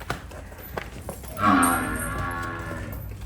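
A single deep, drawn-out moo from a water buffalo at a livestock sale, fairly close, rising then trailing off over a quiet, slightly noisy background.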